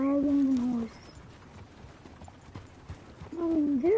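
Horse hooves in the Red Dead Redemption 2 video game, with a quiet, steady clip-clop of hoofbeats at a moderate distance and a voice at the start and end.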